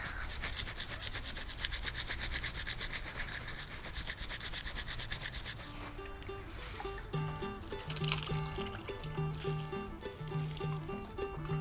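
Bamboo shoots are rubbed by hand while prepared for a Lao-style curry, a rough, repetitive scraping rub close up for about six seconds, after which music takes over.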